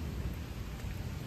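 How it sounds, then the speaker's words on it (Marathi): Low thunder rumbles under a steady wash of rain during an unseasonal downpour at Karjat, the sound dense and continuous throughout the short stretch. "आणि गडगडत देखील आहे, आवाज देखील येते गडगडाचा"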